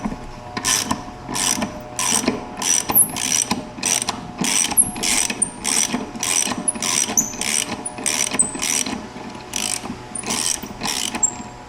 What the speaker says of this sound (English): now we'll do the little star socket to go ahead and pull the bottom one out